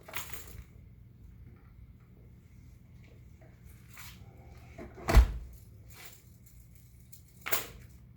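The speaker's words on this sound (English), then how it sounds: "I'm gonna open the door. Now what I'm gonna do is slide the door stopper at the bottom." Gym door being opened and a door stopper slid into place at its bottom, a few soft scrapes and a sharp knock followed by another thud in a quiet room, no talk.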